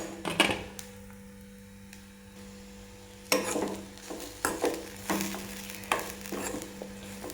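Green chili, curry leaves and peppercorns fry in hot oil for a jackfruit curry, with a low sizzle under a steady mains hum and sharp, close spoon-and-pan clatters at irregular intervals.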